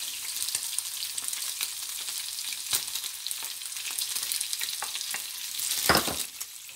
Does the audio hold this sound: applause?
no